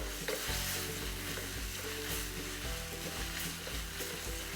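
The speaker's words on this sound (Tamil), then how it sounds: "இந்த தக்காளி நம்ம போட்டதுக்கப்புறம் நல்ல ஒரு வதக்கி கொஞ்சம் லைட்டாக ஒரு குக்காகி அந்த ஆயில் லைட்டாக செப்பரேட் ஆகிடணும்" Tomatoes frying in oil for a cauliflower gravy, stirred steadily in the pan, with constant close sizzling and repeated scraping strokes of the spoon throughout, no voices.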